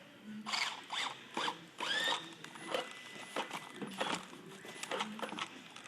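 A manual banding tool tightens a strap around a wooden skid, giving a rapid series of ratcheting clicks and rasps in short bursts, close and fairly quiet.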